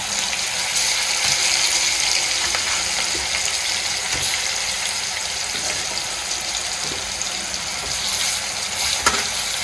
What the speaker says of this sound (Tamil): மசாலா கலந்த மீனெல்லாம் போட்டு பொரிச்சு எடுத்துக்கலாம்